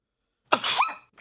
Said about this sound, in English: Oh no, they heard the cute variant of your sneeze.